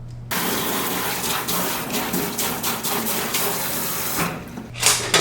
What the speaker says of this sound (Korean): 다시마는 흐르는 물에 한번 씻혀서 들어갈 거예요.